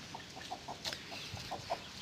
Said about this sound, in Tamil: இது வந்து நம்மளோட கருங்கன் பொட்டை